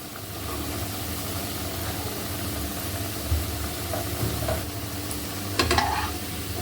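Cabbage vadis deep-frying in hot oil give a steady, dense sizzle close by, with a few soft bumps and clinks near the end and no talking.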